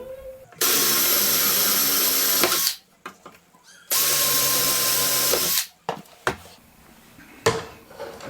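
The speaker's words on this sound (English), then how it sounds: "Take the drill." A power drill bores holes for cabinet hardware pulls in two loud sustained bursts of whining, separated by short pauses, followed by a few clatters and handling knocks.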